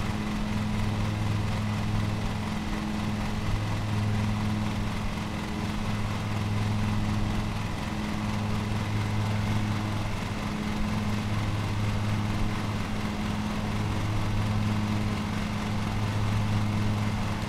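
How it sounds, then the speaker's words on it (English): Lawn mower engine from the video game Lawn Mowing Simulator runs steadily throughout, a continuous droning hum with a faint cyclic pulse, with no talk over it. "I like this mower."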